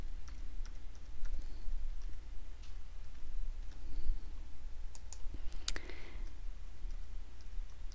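Fingers tap out a card number on a computer keyboard, light scattered key clicks at a quiet near distance over a low steady room hum, with one sharper click near the end.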